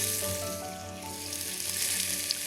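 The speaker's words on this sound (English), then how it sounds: "So in it goes. I like that sizzle." Burgers sizzle steadily in a hot frying pan, a close, constant crackling hiss with no talking.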